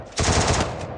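Automatic gunfire in the mobile battle royale game Free Fire, a loud rapid burst of shots lasting under a second with a faint final shot after it.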